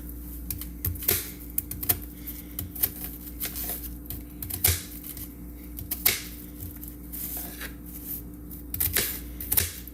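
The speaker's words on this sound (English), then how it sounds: "I'm gonna dice these really small" Vegetables are diced with a knife on a board, a steady run of quick, light taps and clicks scattered across the stretch, fairly close and moderately quiet.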